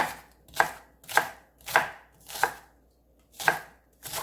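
A knife chops carrots on a cutting board in a home kitchen in six evenly spaced, crisp, close strokes, each with a short fade, and no one speaks.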